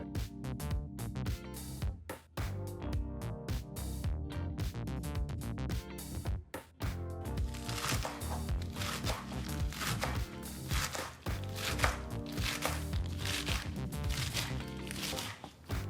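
A knife finely chops fresh palak spinach leaves in rapid, close, crisp strokes that run almost continuously, with a steady tonal backing underneath.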